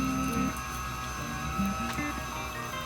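A small beginner pottery wheel's electric motor runs at full speed, giving a steady close mechanical hum with tonal whine and faint ticking and squeaking.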